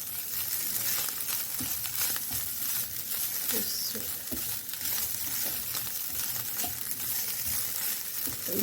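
Pizza topping sautéing in a pan gives a steady close sizzle and crackle, with light scraping and stirring clatter throughout and no talking.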